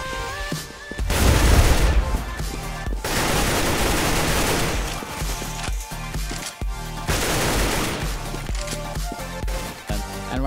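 Loud, dense gunfire fills the scene in a CS:GO match, including a wall bang shot through cover, with repeated bursts and rapid volleys continuing almost without pause.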